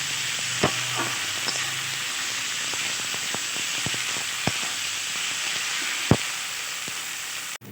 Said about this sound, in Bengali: দেখো, মশলাটা খুব ভালোভাবে কষানো হয়ে গেছে